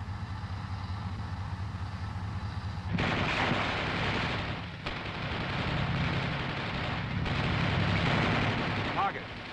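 An M551 Sheridan armored reconnaissance assault vehicle fires its main gun at a target, a sudden loud blast followed by heavy rumbling and further booming bursts over a constant engine drone, with crew voices on the radio.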